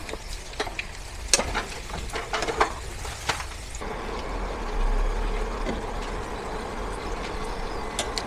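Sugar caramelizing over camote cue sweet potatoes is stirred in hot oil, giving a steady close sizzle with scraping clicks and knocks of the utensil. The scraping comes in irregular bursts, stronger early on.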